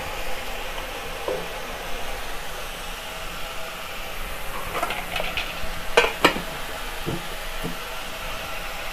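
Ground spices frying in hot oil in a pan for an Assamese fish curry, a steady close sizzle with occasional scraping and stirring clinks from a spoon, no voices.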